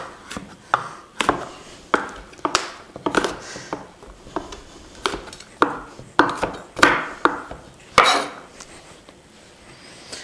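Cranberries roughly chopped with a knife on a board in a kitchen, a steady run of sharp, close taps in uneven bursts, heard alone without talk.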